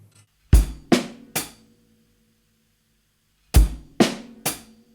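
A drum kit plays a short phrase from a groove in 7 with snare and hi-hat. Three hard, close hits come in a quick run, then a pause, then the same three hits repeat.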